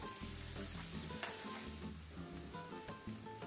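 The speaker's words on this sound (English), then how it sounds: "we're going to add olive oil to a skillet. And when hot, we're going to add the minced shallots or onions." Minced shallots or onions frying in hot olive oil in a skillet, a steady loud sizzle with crackling bursts and soft stirring throughout, no voices.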